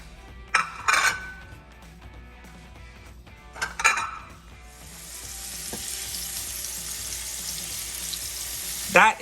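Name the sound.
fish frying in olive oil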